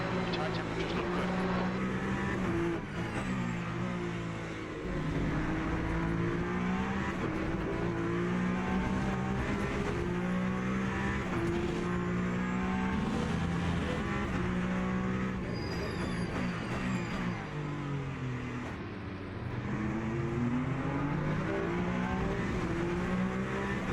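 A Peugeot hypercar races at COTA in Le Mans Ultimate, its engine droning and rising and falling through gear changes for the full lap segment, with a driver talking over it.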